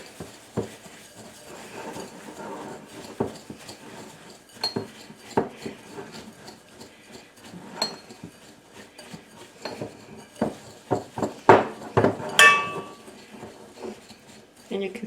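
Cheesecake crust crumbs mixed with melted butter in a bowl, with repeated clinking and scraping of a utensil against the dish, close up, while a voice talks intermittently over the mixing.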